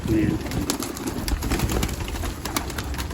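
Pigeons on a rooftop loft, soft cooing and bird calls heard close amid rustling and handling noise, with a brief voice at the start.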